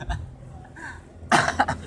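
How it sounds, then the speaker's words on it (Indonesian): A single sharp cough bursts out near the end, close and loud, after a few soft vocal sounds. "Batuk euy."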